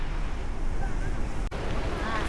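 Continuous rush of surf and wind, waves washing and breaking on rocks nearby with a constant roar at Shek O, Hong Kong, no voices.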